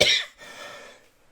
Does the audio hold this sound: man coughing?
yes